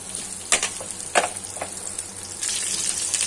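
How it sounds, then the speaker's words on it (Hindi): Potatoes frying in hot oil sizzle with a constant hiss, broken by a few sharp scraping stirs of the pan, close and loud with no talking. "तेज कर लिया है ना आलू को फ्राई कर लेते हैं"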